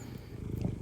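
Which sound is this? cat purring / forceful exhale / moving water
cat purring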